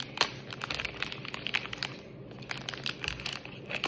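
Close-up crinkling and rustling of a plastic packet of Chinese egg-yolk dessert being handled and torn at, a series of sharp crackles with no talking.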